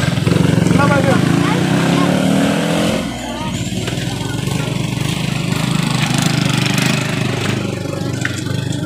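A motorcycle engine runs steadily at idle with a low rumble, while people talk nearby throughout.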